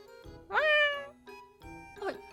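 A cartoon cat named Nekoyama gives a loud, drawn-out meow, then a shorter second meow after a pause, with other voices talking around it.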